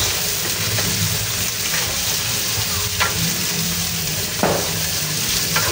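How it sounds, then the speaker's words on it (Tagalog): Steady frying sizzle of kikiam and chicken balls in oil, with occasional sharp pops and crackles, close by and continuous throughout, with no talking. "Iprito-prito natin yung ating kikiam at saka yung ating chicken balls."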